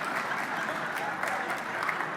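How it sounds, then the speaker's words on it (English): An audience at a lecture applauds, with dense, steady clapping from many hands filling a hall, continuous and fairly loud throughout. "whenever I say this, only men applaud"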